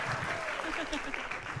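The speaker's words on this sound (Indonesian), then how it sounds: "Tepuk tangannya dulu dong." A crowd claps at an outdoor presidential campaign rally in Balikpapan, a dense, fairly faint patter of applause running throughout with voices talking over it.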